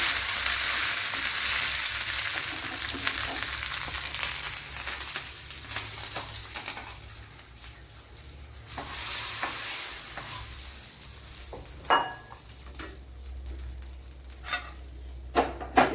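Curry leaves, garlic and ginger fry in a pan for a bitter gourd dish, a loud crackling sizzle that gradually settles, broken by occasional stirring scrapes and knocks.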